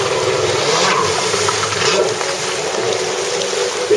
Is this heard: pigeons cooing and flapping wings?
no